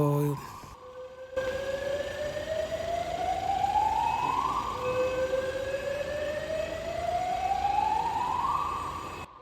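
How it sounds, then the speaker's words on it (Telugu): A second fire engine arrives at a building with a fire alarm sounding, its wailing siren rising and falling in long sweeps, loud and close, over steady background noise. "రెండో ఫైర్ ఇంజిన్ కూడా వచ్చింది"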